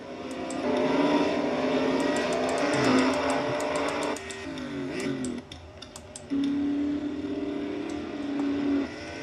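Race car engine howling around the 2.4-mile Mid-Ohio track in a Nationwide Series racing game, a steady loud drone that shifts pitch with gear changes and dips briefly before surging again.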